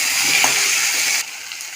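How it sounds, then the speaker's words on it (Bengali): Sliced potatoes, slit green chillies and chopped tomato hit hot oil with a loud close sizzle and hiss, which drops abruptly to a quieter fry partway through. "এই তেলেতে দিয়ে দেবো স্লাইস করে কেটে রাখা আলু, চিড়ে রাখা কাঁচা লঙ্কা, টমেটো কুচি, নাড়াচাড়া করে ভেজে নেব"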